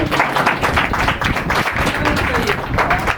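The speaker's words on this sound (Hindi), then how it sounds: "सच में जोर से ताली बजाए उसके।" A church congregation claps together in a dense, steady burst of applause that fills the whole stretch, with voices mixed into the sound.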